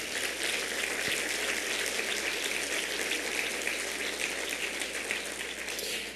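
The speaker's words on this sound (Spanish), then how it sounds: "Denle un aplauso al Señor." A church congregation bursts into sustained applause, a dense, steady wash of many hands clapping together that holds at an even level from start to finish.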